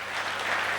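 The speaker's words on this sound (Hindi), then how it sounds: "मैं चाहूँगी इनके लिए जोरदार ताली" Enthusiastic applause for mentors at a business gathering, a dense steady patter of many hands clapping close by for the whole brief moment, with no voices over it.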